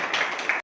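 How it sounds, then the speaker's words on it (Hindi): A hall audience applauds a doctor and his medical team at a community health centre in Ringas, with a brief, dense burst of clapping that cuts off suddenly. "डॉक्टर साहब की और उनकी जो पूरी टीम उनके लिए आप ताली बजाया करें"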